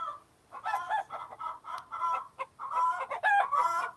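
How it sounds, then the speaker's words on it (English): A chicken clucks close by in a series of repeated, uneven bursts, its calls growing busier and louder toward the end. "One of the chickens is making a noise."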